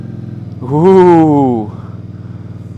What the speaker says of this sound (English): I feel like I need to start the bike and we'll listen to the engine, shall we?